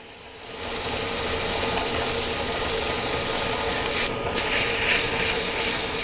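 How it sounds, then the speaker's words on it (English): Sandpaper rubbing steadily against a soft maple burl turned pen, a continuous close, dense scratchy hiss with little variation. "You definitely want to make sure you get all these little edges sanded."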